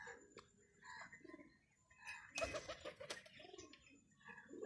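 Pigeons coo in soft, rounded, repeated calls at close range, with a few sharper flutters and bird chirps, while a voice murmurs in the background.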